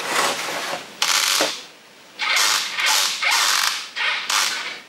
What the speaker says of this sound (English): Very creaky, those hinges, I must say.